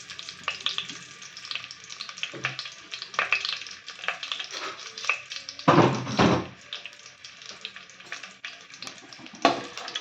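Dry red chillies and garlic sauté in hot oil, a steady close sizzle with irregular stirring scrapes and a couple of louder bursts of spatter, no voices.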